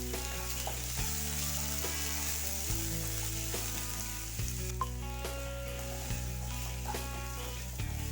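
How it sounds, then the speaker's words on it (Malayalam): Onions, shallots, green chillies and ginger sauté in a pan, a close, continuous sizzle with periodic scraping stirs throughout; no talking. "ഇത് നന്നായിട്ടൊന്ന് വഴറ്റി കൊടുക്കുക."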